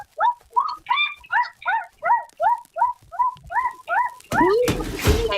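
A person imitates a dog with a rapid series of about a dozen short, yelping barks and whimpers, evenly spaced and close, ending in a louder burst of noise.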